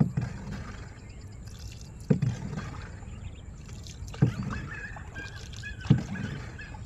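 A wooden boat being rowed through water, with gentle lapping and trickling broken by four distinct oar strokes splashing at regular intervals, close by and with no talk.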